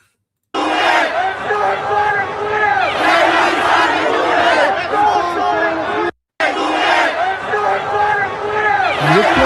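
Huge crowd chanting and shouting in unison during a street gathering, a dense roaring swell of many voices with rhythmic chant bursts, heard as a played recording with one brief cut to silence partway through.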